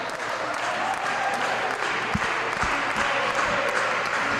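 Wrestling arena crowd at a tag-team match applauding and cheering steadily, a dense, continuous roar of claps and voices filling the space, with a couple of brief low thuds breaking through midway.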